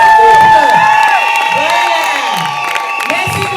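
Wedding guests at a civil marriage ceremony clap and cheer loudly for the newly married couple, with whoops and excited shouts ringing out in a crowded room, the burst of noise slowly fading.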